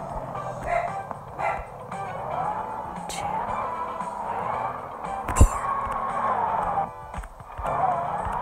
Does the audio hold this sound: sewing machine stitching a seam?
no